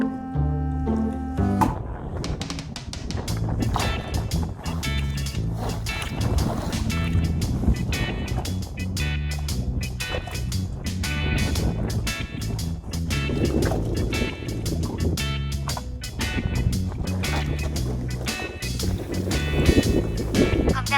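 Steady wind roars and buffets the microphone throughout, with water sloshing and rumbling near a small fishing boat in shallow water.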